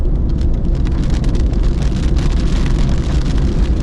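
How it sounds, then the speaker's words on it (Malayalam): Rain pours onto the NH66 highway road near an underpass construction site in Haripad, Kerala, a loud, dense and unbroken hiss filling the whole stretch with no talk. "മഴയായി"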